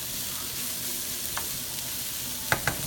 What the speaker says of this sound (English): I'm going to stir that through the cauliflower fried rice blend and get a little bit of color